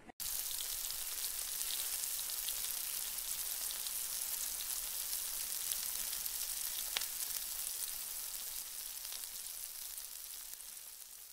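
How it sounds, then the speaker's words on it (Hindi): A beef burger patty seared on its second side in a hot pan, putting out a constant dense hiss of sizzling fat that continues evenly throughout, heard alone and fairly quiet. "अब हम इसे दूसरी साइड से भी सेक लेंगे।"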